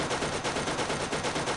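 A burst assault rifle in Borderlands 1 fires rapid, evenly spaced bursts of loud gunshots, close and continuous for about a second and a half.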